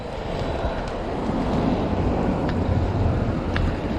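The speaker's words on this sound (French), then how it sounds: "Bon, il y a du vent." Wind gusts buffet the microphone outdoors in Isneville, a steady low rumbling roar with faint swells, close and unbroken from start to end.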